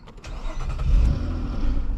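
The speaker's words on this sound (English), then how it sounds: "And that bearing, it makes a nice little clicking noise." A 2010 Nissan Altima Coupe engine cranks and starts, settling into a steady low idle rumble with a loose motor bearing; any clicking is subtle beneath the continuous engine hum.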